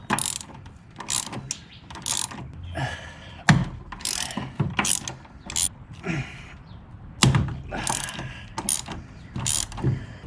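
A ratchet wrench with an 11/16 socket turns a front suspension bolt on an early Porsche 928. Short bursts of rapid, close clicking repeat throughout with brief pauses between strokes.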